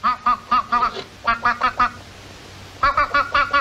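A goose in a Mazzaropi comedy film scene honks in quick, loud, nasal bursts, grouped in runs of four or five calls separated by short pauses.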